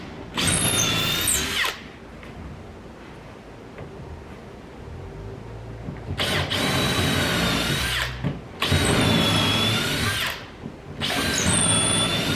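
A power drill driving screws into a laminated deck beam, several loud high whirring bursts of a few seconds each separated by quiet gaps, close and alone.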